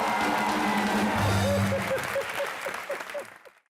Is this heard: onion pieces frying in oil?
no